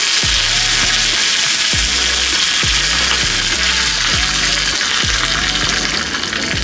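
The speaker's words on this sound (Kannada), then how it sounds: "ಈಗ ಇದಕ್ಕೆ 1 ಕಡ್ಡಿ ಕರಿಬೇವು ಹಾಕೋತಾ ಇದ್ದೀನಿ." Curry leaves crackle and sizzle in hot oil with urad dal while making rava dosa, a steady close frying hiss broken by a series of sharp spattering pops, with no talking.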